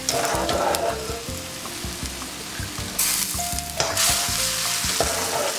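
Food is tipped straight out of one pot into another hot pot and sizzles loudly, with clattering utensil knocks over continuous frying hiss and a sudden louder sizzle surge partway through.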